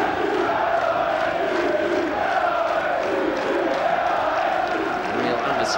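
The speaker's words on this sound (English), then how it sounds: "Real atmosphere cooking up here at the Dell. Capacity crowd." A capacity football crowd at the Dell stadium in Southampton cheers and chants in a steady, loud, full-bodied roar, with voices blending into a continuous wash.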